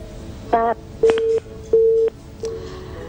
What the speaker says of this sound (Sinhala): දුරකථනය විසන්දි වුණා.